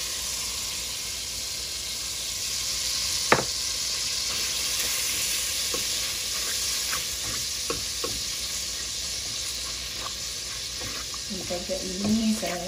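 Butter melting in a reheated pot while preparing broccoli soup, giving a steady close hiss and sizzle with occasional utensil knocks and stirring scrapes, and faint talk near the end.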